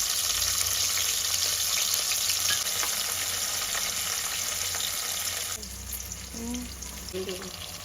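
Chilli seeds, cumin, mustard seeds and onion frying in hot oil for a brinjal curry, a loud steady sizzle that drops to a quieter crackle partway through, with faint voices in the background.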